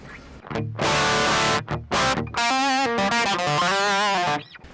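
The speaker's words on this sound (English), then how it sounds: "we're disabling the IR, so we're going to get that really crappy, like just direct amp sound." Harsh, fizzy distorted electric guitar through a Lekato Tank G amp modeler with the cabinet IR disabled, buzzy and raw direct amp sound, with chords and sustained notes ringing loudly in short bursts.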